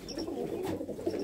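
Low, burbling coos from a loft pigeon pair, a dabbi hen and a khattian cock, roll on in a steady near murmur, one brief rise in the middle, with nobody speaking.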